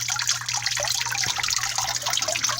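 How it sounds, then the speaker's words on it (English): Water trickles and drips continuously from a DIY terrarium rainfall box, a close, busy patter of droplets over a faint steady hum. "it'll overflow and start dripping out of the sides instead of all the way up at the top against your cage"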